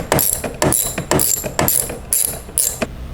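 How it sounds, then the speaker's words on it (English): A socket wrench ratchets a bolt loose under the hood of a 2004 Mitsubishi Galant GTS, six evenly spaced bursts of sharp clicking, close and loud, no talking. "After you've unscrewed the bolts, make sure you carefully lift the socket wrench off"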